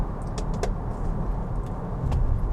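A Nissan X-Trail's gruff diesel engine running, heard from inside the cabin as a steady, loud low rumble with a few light rattles on top, and no talking.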